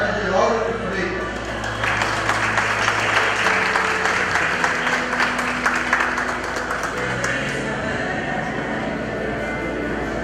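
Audience applause fills a hall at a theology graduation ceremony, a dense sustained clapping that swells after a couple of seconds and holds steady, with a voice on a PA heard faintly underneath.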